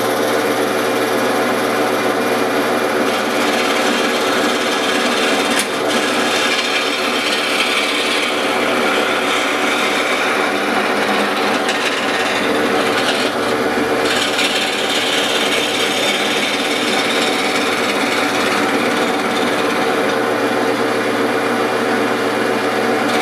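A lathe runs continuously while its hand wheel is turned in, giving a steady, loud rasping, rubbing grind with mechanical hum throughout and no voices.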